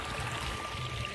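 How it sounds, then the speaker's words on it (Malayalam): Water runs along a channel beside paddy fields, a faint, steady burble and trickle that holds evenly through a very short moment, with no voices. "കണ്ടോ ഇവിടെ വെള്ളം ഒഴുകുന്നത്"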